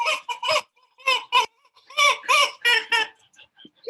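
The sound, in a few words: rubber chicken sounds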